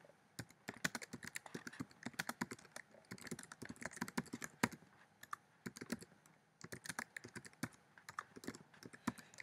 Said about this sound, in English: I'm just going to type real quickly in here.